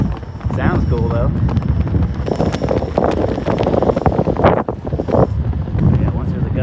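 Gusty wind buffeting the microphone in heavy, uneven rumbling bursts, loud and close, mixed with a person talking throughout.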